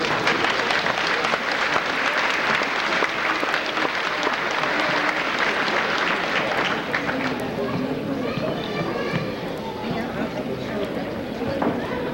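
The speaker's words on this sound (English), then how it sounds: "give these two young people another applause" Sustained applause from the audience at a 1998 high school graduation in Fleming-Neon, Kentucky, steady and full throughout with some crowd chatter emerging toward the end.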